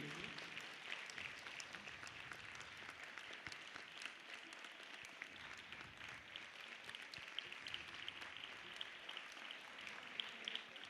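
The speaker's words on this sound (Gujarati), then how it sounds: "આપણી તાળીઓ એ સ્વાગત વિધિ ચાલે ત્યાં સુધી બિલકુલ નહીં અટકવી જોઈએ" An audience applauds to welcome a guest at a 31st birthday and New Year's Eve party, dense sustained clapping from a sizeable crowd that stays steady and fairly distant throughout, with no pauses.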